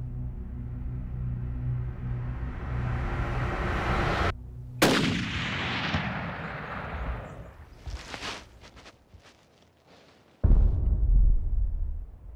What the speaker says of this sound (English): All right, I'm gonna take the shot then.